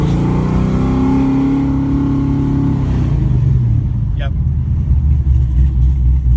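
An old Nova with an automatic transmission, on its last legs as the transmission fails, drives a short stretch home; its engine drones loudly and steadily throughout, with a rising rev partway through.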